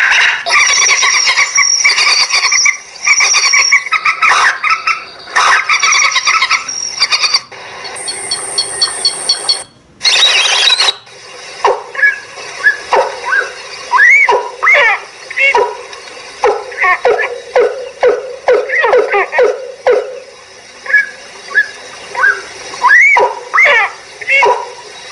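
A TOA 15W loudspeaker plays back a recording of harsh, bird-like calls in loud, repeated bursts, with brief gaps between them and a buzzy, slightly distorted tone.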